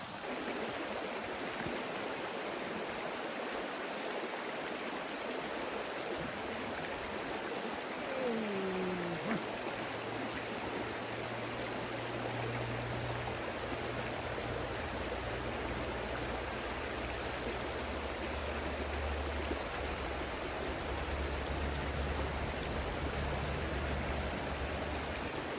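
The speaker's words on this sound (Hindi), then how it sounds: "इसके बराबर में यहाँ से साफ़ सुथरा बर्फीला ग्लेशियर का पानी बह रहा है" Clear glacier meltwater stream rushing in the mountains, a steady, dense broadband wash of flowing water close by, continuous throughout with no talk.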